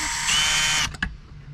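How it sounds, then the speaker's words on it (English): A small drill whirs at high pitch for under a second, boring a small angled pilot hole, then cuts off with a couple of quick clicks. "I'm going to drill a hole at an angle"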